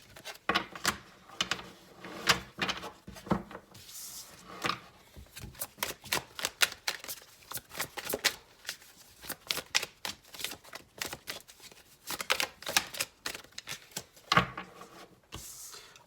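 A deck of tarot cards is shuffled by hand in rapid, repeated bursts of riffling and flicking, close and crisp, continuing with brief pauses throughout.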